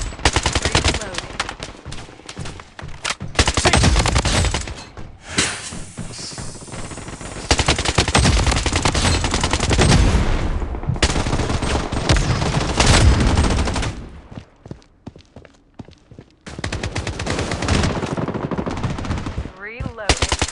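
Gunfire in the mobile game Blood Strike during a big-head-mode match, loud sustained machine-gun bursts with brief pauses and a quiet gap in the middle, plus occasional in-game voice callouts.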